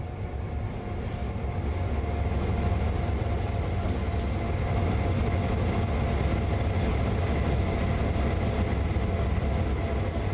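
A GP38-2 diesel locomotive in Train Sim World 2 idles with a steady low rumbling drone and constant mechanical hum, continuous and unchanging throughout.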